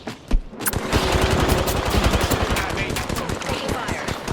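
Rapid bursts of automatic gunfire from an Apex Legends firefight fill the whole stretch, loud and dense, with one sharp early shot standing out.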